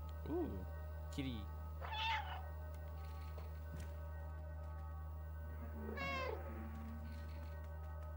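A cat meows several times in the video game Stray, three or four distinct close meows spaced apart over a steady low electronic hum, with a voice briefly speaking too.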